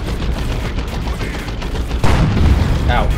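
Cannon fire in the real-time strategy game Dawn of War 2: Retribution during a 1v1 match: a loud sudden blast lands midway through steady rumbling battle noise, followed by crackling and clattering combat sounds.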